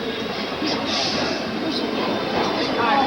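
A New York subway train passes with a steady, loud rumbling roar and rail noise that fills the whole stretch evenly, heard close by in a station.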